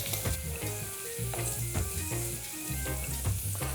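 Coconut milk with a poked Scotch bonnet pepper, garlic, ginger and scallion simmers and sizzles steadily in a pot for Jamaican curried ackee, a continuous close bubbling crackle with faint clinks.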